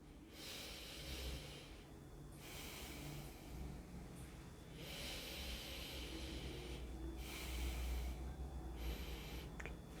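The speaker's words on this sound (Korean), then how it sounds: "코를 한쪽 누르고 호흡을 해보십시오." A person breathes through one nostril while pressing the other closed, slow, quiet inhale and exhale cycles with a soft airy hiss, about four breaths, close but faint and without talking.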